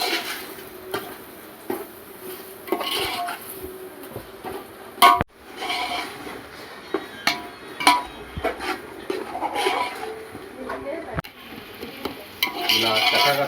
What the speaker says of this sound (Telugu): ఇలా చక్కగా కలుపుకుంటూ